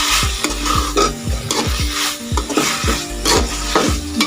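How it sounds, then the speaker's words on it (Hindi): Okra curry frying in a pan is stirred vigorously, with a regular rhythm of loud, close scraping strokes about twice a second over a continuous sizzle. "इसको हम अच्छे तरीके से कर लेते हैं मिक्स"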